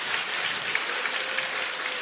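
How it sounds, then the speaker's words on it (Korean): Dense, steady applause from a large crowd at a political party's presidential election campaign committee closing ceremony, even and sustained throughout with no pauses. "여러분 큰 박수 부탁드립니다."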